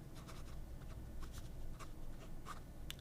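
A fountain pen fitted with a Magna Carta M600 flex nib writes across paper in a run of faint, close scratchy strokes, each a short swish with brief pauses between.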